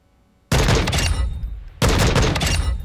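Two loud, close shots from an M4 rifle chambered in .458 SOCOM (the FTAC Recon) on a Call of Duty: Modern Warfare II firing range, each a sharp heavy crack with a long ringing tail, spaced about a second apart.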